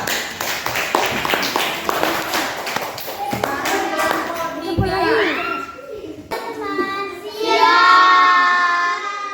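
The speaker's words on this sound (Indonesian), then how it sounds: "Tepuk tangan untuk kelompok 2" Scattered claps from elementary schoolchildren in a fourth-grade classroom, applauding class group 2, sharp taps mixed with overlapping children's voices and shouting at close range.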